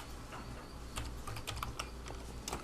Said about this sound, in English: So we type again access